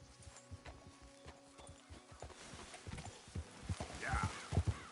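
Horse hooves clip-clop at a steady trot in Red Dead Redemption 2, the rhythmic hoof beats growing louder and closer toward the end, with a faint whinny.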